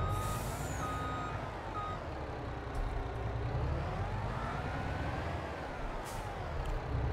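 A truck in Farming Simulator 22 reverses to park a trailer beside flatbeds, its steady reversing beeper repeating over a constant engine drone, loud and close with no talk.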